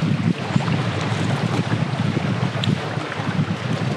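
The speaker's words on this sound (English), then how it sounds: "wind immediately picked up as we got into the lake" Gusty side wind buffets the microphone on an open lake during a backcountry canoe trip in the Ontario wilderness, a loud continuous roar with water washing underneath and no voices.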